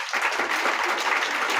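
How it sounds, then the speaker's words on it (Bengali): A crowd at a certificate-awarding ceremony breaks into brief, dense applause. Many hands clap in a continuous, loud burst that stays at even strength throughout, with no speech over it. "প্লিজ সবাই একটু দূরে করতালি দুইবার।"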